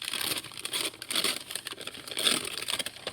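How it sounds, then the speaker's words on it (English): A paper bag being crumpled and squeezed into a tight ball, giving dense, continuous crinkling and crackling up close with no talk. "I'm going to crumple it up into a little ball"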